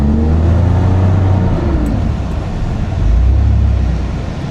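Jeep engine revving steadily on a beach as it backs up, a loud continuous low drone that swells near the start and again toward the end, with wind and surf noise around it.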